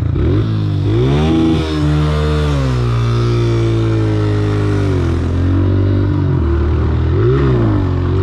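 A dirt bike engine revving hard during wheelies, loud and close, its pitch climbing and dipping repeatedly as the throttle opens and eases off.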